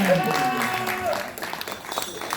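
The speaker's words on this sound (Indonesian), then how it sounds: "Kita berikan tepuk tangan." An audience at a cultural discussion on Panji stories applauds in a brief round of clapping that starts full and tapers into scattered claps, with voices mixed in.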